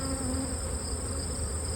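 Honey bees buzzing inside a hive during an oxalic acid pad treatment, a dense, continuous droning hum with steady loudness and no talk.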